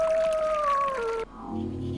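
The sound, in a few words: wolf-like howl in video game I'm On Observation Duty 8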